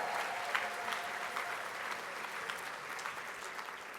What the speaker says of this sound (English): A round of applause for our senators.